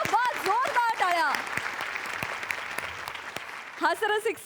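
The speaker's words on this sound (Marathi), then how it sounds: "जोरदार टाळ्या." An audience at a Marathi comedy show breaks into a burst of clapping that fills the middle of the moment, with a voice speaking loudly just before and another picking up right after.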